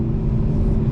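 Low, steady engine rumble from a 2025 BMW M4 Competition xDrive cruising in seventh gear on light throttle, a continuous close drone with faint irregular exhaust burble texture and no talk.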